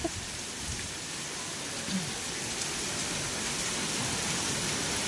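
Torrential rain falls at night, a steady, loud hiss of drops drumming on surfaces nearby, unbroken for the whole stretch and with no talking.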